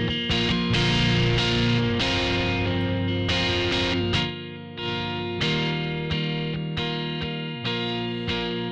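Guitar-like sustained chords run through a Sansamp power amp distortion effect, a series of about ten struck, saturated notes that ring and decay, each new attack cutting in sharply, with no talking.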